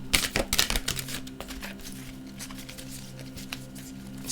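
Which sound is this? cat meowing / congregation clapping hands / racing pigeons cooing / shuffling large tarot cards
shuffling large tarot cards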